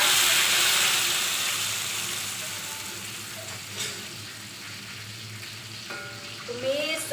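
Ingredients sautéing in oil already used for frying sardines, a close, steady sizzle and hiss that starts loud and slowly eases, with a few faint clinks and stirring sounds near the end.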